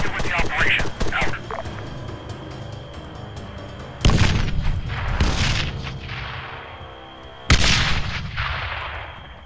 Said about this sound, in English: Ordnance is inbound.